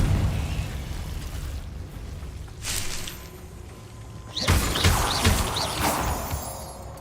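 Confringo fire spell blasts from a Harry Potter video game, two loud bursts of roaring, crackling fire with a dull rumble between them, close and alone without talk.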